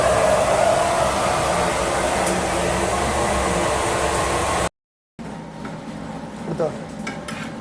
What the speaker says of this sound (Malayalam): ഇനി നമുക്ക് അത് കത്തിക്കാം.